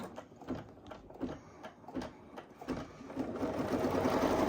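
An embroidery machine stitches a pumpkin design, starting with intermittent thumps and clicks that settle into a steady, building mechanical whir, nearby and without talk.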